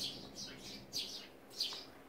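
Sparrows chirp in short bursts at a traditional barley mill in Agyang, a few quick tweets spread over two seconds at moderate distance, with no talking.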